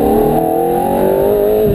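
A car engine roars at full throttle, pitch climbing steadily as it accelerates hard on a driving course, loud and close throughout a short burst.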